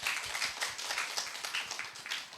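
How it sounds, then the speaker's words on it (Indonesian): Studio audience applause during an Indonesian radio talk show on traditional cake businesses, a brief burst of rapid, fairly quiet clapping from a small crowd with no talking over it. "Boleh kembali kita berikan tepuk tangan yang meriah sekali lagi."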